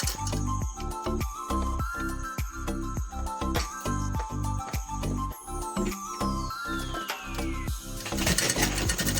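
A sewing machine stitches a side seam of fabric in a rapid, even mechanical rhythm of needle strokes, running loud and continuous for several seconds before a brief shift in tone near the end.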